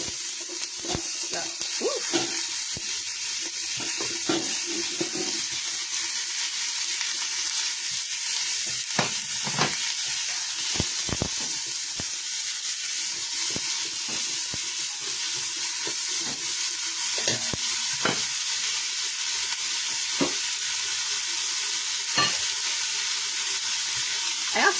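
Chicken chili with white beans bubbling in a pot, a steady close hiss broken by frequent sharp pops and crackles throughout, with no talking.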